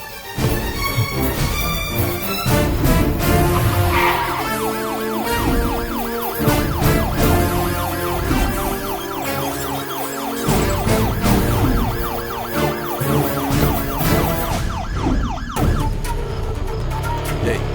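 A wailing ambulance siren cycles loudly and repeatedly, rising and falling over busy background noise at a road accident, with a brief voice near the start.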